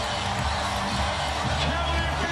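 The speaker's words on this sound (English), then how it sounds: "Time for the tradition here at the Quicken Loans Arena that sends the crowd into a frenzy" An arena crowd at the Quicken Loans Arena during the 2009 NBA Playoffs cheers and roars in a frenzy, a dense, continuous wall of noise with scattered whoops.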